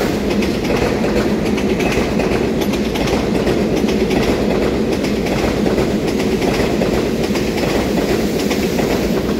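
A twelve-car EMU3000 Tze-Chiang express train pulls out of Douliu station, a loud close continuous rumble of wheels and rail noise with steady clatter and motor hum throughout.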